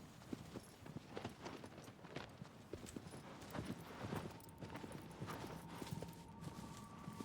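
Horse hooves clip-clop at a steady trot in Shadow of the Colossus, a close, continuous run of sharp hoof strikes over a low outdoor ambience.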